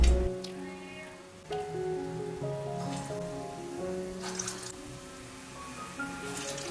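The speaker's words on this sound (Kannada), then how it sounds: "ವಡೆಗಳನ್ನು ತಿರುಗಿಸಿ ತಿರುಗಿಸಿ ಫ್ರೈ ಮಾಡಿಕೊಳ್ಳಿ" Urad dal vadas fry in hot oil, a continuous crackling hiss like rain that stays fairly even, with soft background music playing over it.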